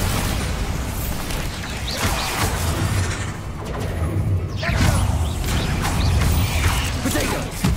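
Bombarda blasting spell cast during Hogwarts Legacy combat, a dense rumbling stream of booming impacts and grinding, creaking mechanical crashes, loud and sustained with surges of explosive noise throughout.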